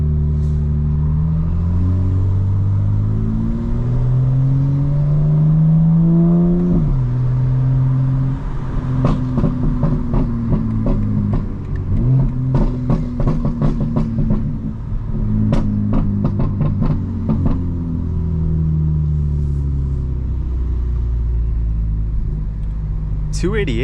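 A catless 900hp 2025 BMW M4 engine revs up and down in repeated swells, rising and falling in pitch with a deep exhaust rumble, close and loud, while a person talks over it.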